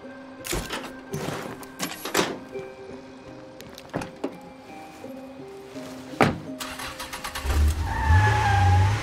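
Truck engine in the game State of Decay 2, with repeated thunks and knocks over a steady motor hum, closing in a louder low rumble as the engine revs up near the end.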